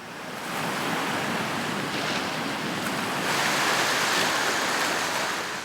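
Strong ocean waves and currents surge around the Rangiroa atoll, making a loud, continuous roar of surf with wind buffeting the microphone and a swell that builds toward the end.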